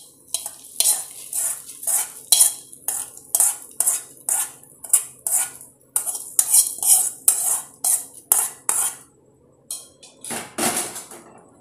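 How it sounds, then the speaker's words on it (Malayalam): Ladle stirring fried mustard seed, onion and chilli tempering into Ettangadi puzhukku in a metal pot, a loud, steady run of scraping clanks in even strokes, close by and alone with no talk. "അതിനുശേഷം പുഴുക്ക് നന്നായിട്ട് ഇളക്കി യോജിപ്പിക്കുക."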